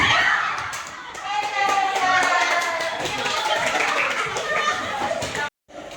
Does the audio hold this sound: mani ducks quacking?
no